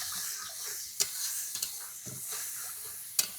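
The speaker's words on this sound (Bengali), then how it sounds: "মশলাটা বেশ সুন্দর করে একটু কষিয়ে নিই" Spice paste with salt and turmeric powder frying in a pan, a soft continuous sizzle and hiss close by, with a few sharp clicks of a spoon against the pan.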